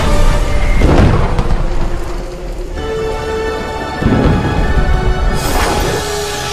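The Nibel tree explodes in the video game Ori and the Blind Forest with loud, deep rumbling booms that surge in several waves over a sustained roaring wash.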